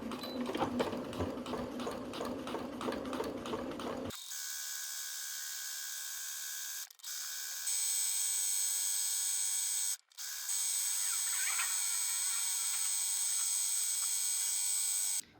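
A sewing machine runs a straight stitch in short bursts, first a rapid rhythmic clatter and then a higher steady whirring with brief stops, close and fairly quiet.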